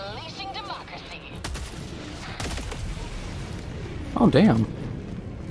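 Air-called rocket pods strike in Helldivers 2, a run of loud blasts and crackling fire packed into a busy battle mix, with the heaviest burst near the end while a voice exclaims briefly over it.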